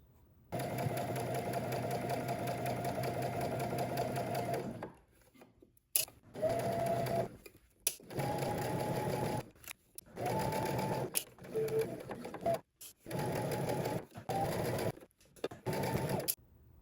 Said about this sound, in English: We're going to head to the sewing machine and stitch close to the folded edge.